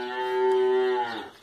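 A calf bawls among cattle on a farm, one loud, sustained moo that swells and then tails off, close to the listener.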